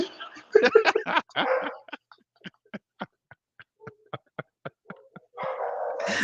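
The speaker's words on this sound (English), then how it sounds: "dog next door is barking at him." A neighbour's dog barks in a quick series of sharp, fairly close barks, with talking and laughter before and after the barking.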